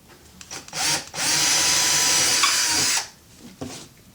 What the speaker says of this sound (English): be very careful when drilling into walls